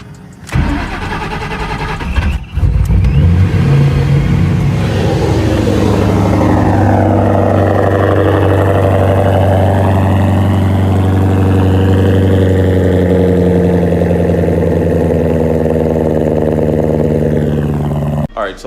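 A turbocharged Ford Mustang fires up from cold after sitting for days, with a sharp crank and catch and then a loud, steady, rumbling idle that slowly settles as it warms. It is recorded close and nobody speaks.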